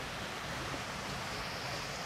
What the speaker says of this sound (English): We just find this waterfall.